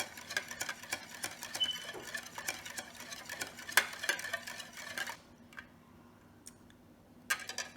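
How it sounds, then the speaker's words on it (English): A whisk in a bowl of homemade mayonnaise mixture makes fast, quiet clicks and taps in a busy rhythm. The clicks stop partway through, then one short burst follows. "So we're going to whisk it up until well combined."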